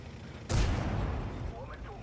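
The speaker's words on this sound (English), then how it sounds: "There goes my last AP shell" A World of Tanks tank cannon fires an AP shell with a sudden loud boom that decays into a rumbling tail, a single shot near and alone.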